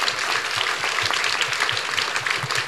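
A seated audience at a university dialogue event gives a dense, steady round of applause for two Vice-Chancellors, loud and continuous with many hands clapping at once, and no talking over it.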